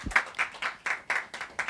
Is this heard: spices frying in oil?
no